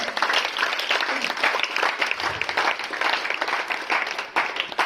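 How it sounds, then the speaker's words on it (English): Audience applause at a poem recitation event, dense continuous clapping from a crowd at moderate loudness, holding steady for about five seconds. "Once again, a very big clapping."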